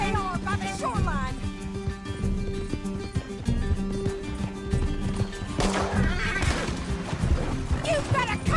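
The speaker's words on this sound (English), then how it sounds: "Can't this horse go any faster?" Galloping horse in Red Dead Redemption 2, rapid hoofbeats drumming under game music and clattering action sounds, with shouts and voices mixed in throughout.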